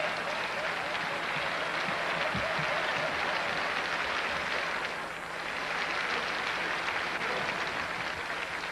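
An audience at the Grand Ole Opry gives a dense, sustained round of applause that fills the whole stretch at an even level, heard from a distance with no speech.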